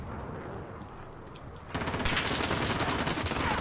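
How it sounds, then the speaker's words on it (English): Rapid automatic gunfire in an online shooter game played with keyboard and mouse, starting abruptly partway through as a dense, loud burst over low background noise. "what are you shooting at now, bro?"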